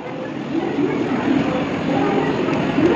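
An AC suburban train stands or moves at a railway platform, giving a steady, loud rumble and hum throughout with no pauses.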